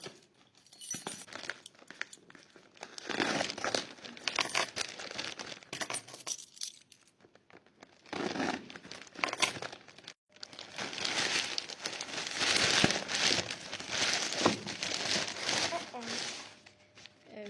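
A delivered package is opened at close range, with long stretches of crinkling paper and plastic wrapping, tearing, and an occasional clink, while a person talks over much of it.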